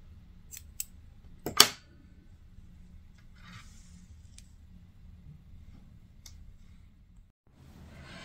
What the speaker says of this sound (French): je coupe le fil